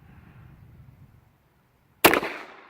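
A single sharp gunshot from a High Standard Dura-Matic pistol with a 6-inch barrel, loud and close, following a stretch of quiet low room noise and trailing off in a short echo.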